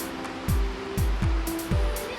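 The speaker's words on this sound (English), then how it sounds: "I'll just get rid of this water." Rinse water is poured out of a glass carafe during a V60 pour-over coffee setup, a splashing, gurgling stream with several rhythmic glugs as the water empties, no talking.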